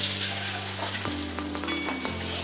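Potatoes and eggplant fry in oil in a pan, a steady close sizzle throughout with a low hum underneath and a few small pops and scrapes of stirring.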